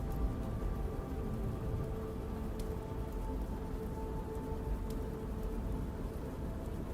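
Soft, steady rain falling in an even, continuous hiss with a low rumbling undertone and a few faint taps, with no voices.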